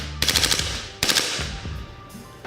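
An Umarex H&K MP7 gas airsoft gun fires on full auto, two short loud bursts of rapid, sharp pops close by, each fading into a gassy hiss.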